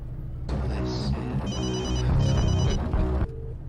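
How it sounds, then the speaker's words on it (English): A telephone rings repeatedly in a comedy scene, its electronic ring pattern loud and steady for about three seconds before cutting off into a voicemail greeting. "You've reached the voicemail of Superheads. Please leave a message"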